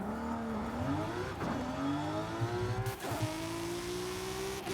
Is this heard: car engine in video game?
yes